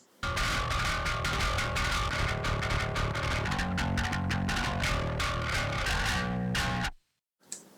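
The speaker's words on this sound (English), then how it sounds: "Here's the overdrive sound." A metalcore bass guitar runs through an overdrive effect with no cabinet simulation, giving harsh, buzzy, fizzy distorted tone. Chugging palm-muted riffs and sharp accented hits play loud and steady for about seven seconds, then cut to silence with one brief last note.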